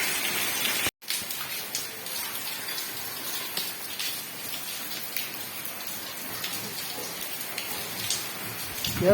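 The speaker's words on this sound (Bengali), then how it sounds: "বৃষ্টি বৃষ্টি হচ্ছে দেখুন" Heavy rain pours down steadily during a storm, a dense, continuous hiss of drops striking surfaces that cuts out briefly near the start and then resumes at full strength without any talking.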